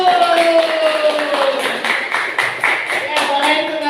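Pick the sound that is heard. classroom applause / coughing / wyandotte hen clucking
classroom applause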